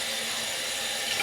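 Running tap water splashes steadily at a bathroom sink as hands wet a face during a morning skin care routine, a close, continuous wash without talk.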